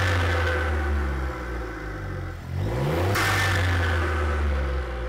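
A modified Volkswagen Polo with a loud aftermarket exhaust revs hard, holding a steady rumbling idle-to-rev drone, dipping briefly mid-clip, then surging back up in a sharp rev and sustaining the loud throaty note alone.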